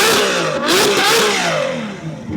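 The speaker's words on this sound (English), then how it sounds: "I was gonna ask you if you mind revving the F12 quickly" A Ferrari F12's V12 engine revs loudly and close by at the Circuit of the Americas, its pitch climbing and falling in quick, rising sweeps with no voices over it.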